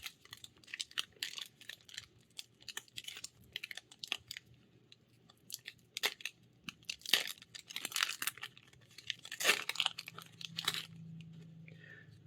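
A foil booster pack of Magic: The Gathering Phyrexia: All Will Be One cards is torn open by hand, giving close, intermittent crinkling and ripping of the wrapper with short pauses.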